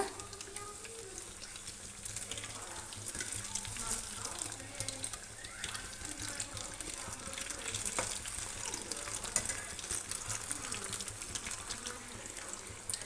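Banana fritters (pazham pori) made with jaggery frying in hot oil produce a soft, steady crackling sizzle that stays fairly faint and even throughout.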